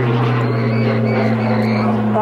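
A Tucano T1 propeller trainer performs an airshow display at RAF Cosford, its engine a loud, steady droning hum throughout while a commentator talks.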